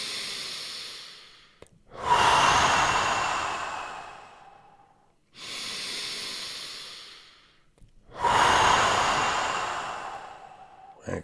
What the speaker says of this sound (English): Last three, breathe out more.